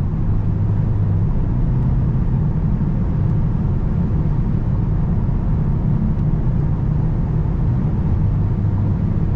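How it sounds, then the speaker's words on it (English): Mercedes S63 AMG V8 hybrid cruising fast on the Autobahn, a steady loud low cabin rumble of engine and road noise with no change in pitch throughout. "The work together with the V8 and the electric drive unit is amazing because you have the torque and the power of the V8"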